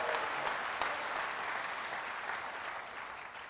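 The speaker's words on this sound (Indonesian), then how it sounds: "Kita berikan tepuk tangan buat Tuhan." Steady applause from a church congregation, dense clapping throughout with a few sharper claps standing out, slowly tapering toward the end.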